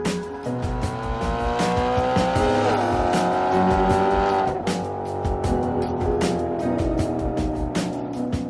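Engine and exhaust of a Bordeaux-colored Maserati Quattroporte M139, a loud continuous roar that rises and falls in pitch as it revs, with sharp crackling bursts layered over the drone.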